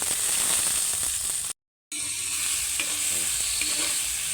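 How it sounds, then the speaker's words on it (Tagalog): Garlic, ginger, tomato and chili sauté in hot oil for a seafood soup, giving a loud, steady sizzle with spoon stirring scrapes and a brief cut to silence midway. "Igisa muna natin yung mga ingredients pampalasa."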